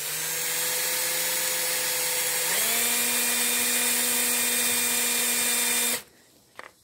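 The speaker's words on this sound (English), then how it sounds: "I'll just put it in my lathe a minute." A lathe spins to clean up a chipped dimple die: a steady, loud, close motor hum that rises in pitch partway through, then cuts off abruptly into near quiet with faint handling noises.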